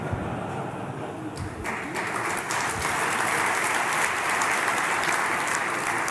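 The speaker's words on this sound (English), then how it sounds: "that's not something I deserve applause for." Audience applause fills a conference hall during a 2014 European tech troubleshooting session, a steady, dense wash of clapping that holds at full strength for the whole stretch.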